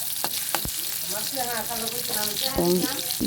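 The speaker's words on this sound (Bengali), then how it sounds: "দেখুন কড়াই নিয়েছি সয়াবিন তেল এবং পেঁয়াজ কুচি" Chopped onion frying in soybean oil in a wok, a continuous close hiss of sizzling with a few sharp metallic clacks of a spoon and a faint voice under it.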